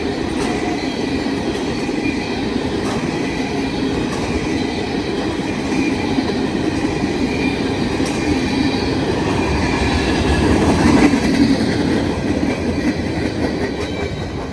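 A freight train hauling welded rail cars loaded with long continuous rail sections rolls through a four-track railroad crossing along a street, a steady, loud rumble and clatter of wheels on rails that swells slightly near the end.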